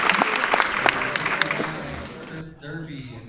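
Audience applause at a WBCA 8-ball pool match, a scattered burst of claps that thins and fades after about two seconds, followed by quiet voices talking.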